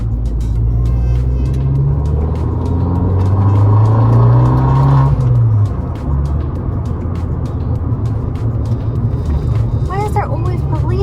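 An Abarth 500 fitted with a short shifter drives along, its engine rumbling loud and close with a rising rev that drops at a gearchange, followed by steady cruising drone and a voice speaking over it.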